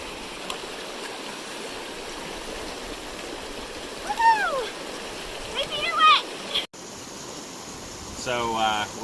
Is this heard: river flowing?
yes